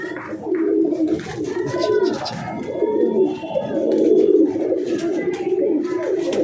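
Pigeons coo in a low, throaty, repeating rumble, close by, with soft flutters and faint chirps; people talk quietly underneath.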